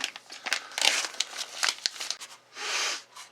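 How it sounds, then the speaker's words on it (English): A simple plastic bag holding a new 30-round Magpul Gen 3 PMAG M3 AR magazine crinkles and crackles in bursts, close and fairly loud, ending in a longer rustle. "And they come like this in a simple plastic bag."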